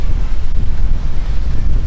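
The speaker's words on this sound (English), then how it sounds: "It's probably already very windy." Strong wind gusts buffet the microphone on the beach at Ewa Beach, Hawaii, with a steady low roar and surf washing underneath, loud and continuous with no talking.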